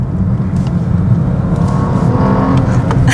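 Bentley Continental GT Convertible in sport mode gives a deep, steady engine roar heard from close by while driving, a loud continuous drone with a slight rise in pitch and no talking over it.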